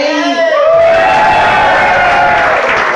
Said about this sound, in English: Thank you for that apathetic round of applause as I walk to the stage.